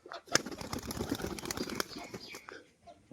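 A male pigeon performs a display flight, its wings giving a few quick, faint flaps and claps, with a sharp clap near the start followed by a fluttering stretch before it fades.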